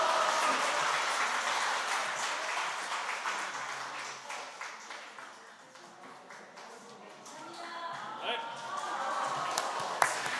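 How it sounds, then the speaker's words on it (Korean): A church congregation gives a short round of applause after a correct answer to a quiz question during a Sunday afternoon service. The clapping is moderately loud, then fades and swells again, with scattered voices mixed in. "딩동댕 박수 한번 주시고요."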